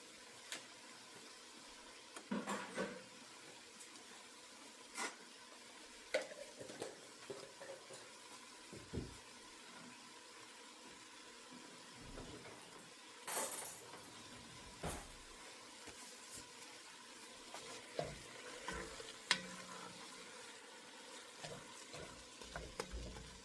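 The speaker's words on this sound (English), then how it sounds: "give that a minute to saute. And then we'll add some flour." Garlic sautés in a pot for broccoli cheddar soup while flour is stirred in, giving a faint continuous sizzle with scattered scrapes and clinks of a utensil against the pan.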